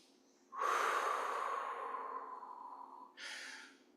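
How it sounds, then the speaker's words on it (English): A slow, audible in-breath during a meditation exercise, rushing in near and close for about two and a half seconds, then easing off, followed by a second shorter breath. "So it's just breathing in."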